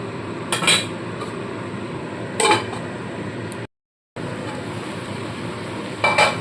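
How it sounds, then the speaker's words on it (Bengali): A spoon stirs vegetables in a cooking pot for a taro and prawn curry, making a few short scraping, clattering bursts over a steady background hiss, with a brief dead silence midway. "এবার আবারও ভালো করে সমস্ত সবজিটাকে নাড়িয়ে নিয়ে চাপা দিয়ে দেবো"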